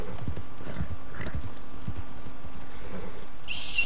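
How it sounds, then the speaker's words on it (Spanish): Hooves clip-clop in a quick uneven rhythm close by, and a horse whinnies briefly near the end, with steady game ambience underneath, in Red Dead Redemption 2. "Lo tengo que tranquilizar al caballo."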